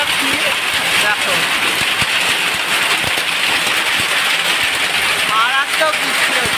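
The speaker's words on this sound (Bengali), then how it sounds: "বাইরে মানে মুষলধারে বৃষ্টি হচ্ছে, আর সাথে শিলা বৃষ্টি বলতে পারো" Heavy downpour with small hailstones falling outside a home, a dense continuous roar of rain with scattered sharper ticks from the hail, loud and close, with a voice heard faintly at moments.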